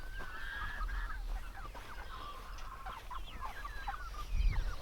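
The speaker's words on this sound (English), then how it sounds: "So, these are the meat birds." Meat chickens clucking and calling repeatedly, several birds close by on a farm, with a low rumble of wind or handling noise underneath.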